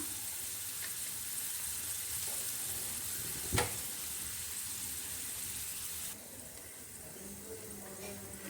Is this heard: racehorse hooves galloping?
no